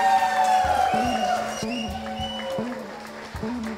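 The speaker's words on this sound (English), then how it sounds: "Let's give them a big round of applause." Audience applause fills a family paint night gathering, a steady clapping wash that stays fairly even from start to finish, with faint voices and tonal background sounds mixed beneath it.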